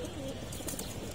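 Imported pigeons coo in a loft, a soft, steady low murmur of several birds throughout, fairly close.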